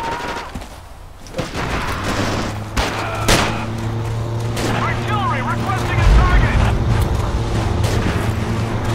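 Rapid bursts of Forgotten Hope 2 gunfire crackle over a continuous low rumble, with scattered louder shots and a boom, in a World War II battle.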